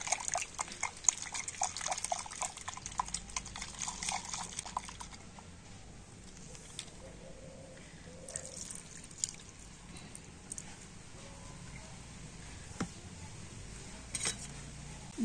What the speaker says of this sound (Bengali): তো মিক্সি জারটা একটু ধুয়ে নেব।